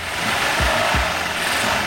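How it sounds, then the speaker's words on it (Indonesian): A carbureted Honda Vario motorbike engine idles steadily up close, a low rough rumble with a couple of brief revving thumps early on. "ini ketika dinyalakan motornya"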